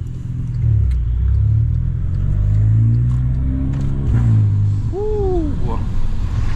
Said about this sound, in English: Car sounds sick coming through here